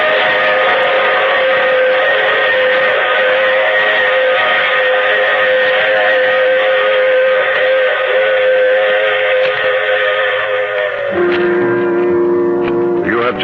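A steam train rumbles steadily through an old-time radio mystery drama, a sustained loud engine drone and whistle-like tones that shift near the end as the sound changes character.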